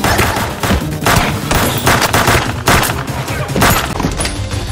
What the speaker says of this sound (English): I can't imagine if he actually shot all these guns on the set right there